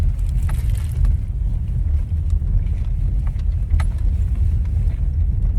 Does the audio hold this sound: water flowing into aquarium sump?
no